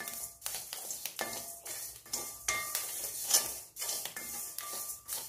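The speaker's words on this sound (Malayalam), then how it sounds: "ഇനി അതിലേക്ക് നമുക്ക് കുറച്ച് കറിവേപ്പിലയൊന്ന് ചേർക്കാം." Curry leaves roasting in a pan for a Tamil-style chilli chutney powder, a soft crackle under repeated rhythmic scrapes and clinks of a spatula stirring against the pan, close and fairly quiet.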